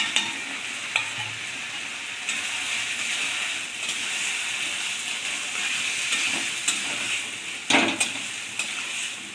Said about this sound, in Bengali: মশলাটা একটু আমি ভেজে নেব